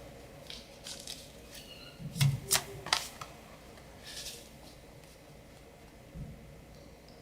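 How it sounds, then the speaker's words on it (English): Tarot cards being shuffled by hand during a live reading, soft irregular riffling and slapping sounds in short bursts, close and quiet. "And Yara, I'm shuffling the cards for your question."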